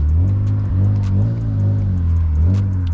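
A BMW E36 car engine runs at close range, fitted with a new power steering kit, its low steady drone rising and settling with a couple of throttle swells as it pulls away.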